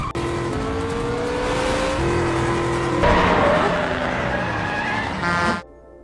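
A high-speed car chase in an action film, with engines revving hard, a tire squeal and cars rushing past, loud and continuous, with an abrupt cut near the end.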